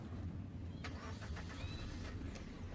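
Manual car started by push-start button: a steady low engine hum underneath, with brief clicks and a short cranking burst before the idle settles, heard close inside the cabin.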